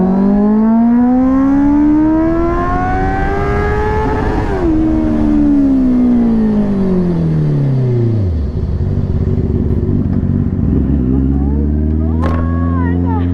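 A Honda CBR650R superbike revs hard in first gear, its engine note climbing steadily in pitch, dropping at a shift, then winding up again, loud and close with a passenger aboard.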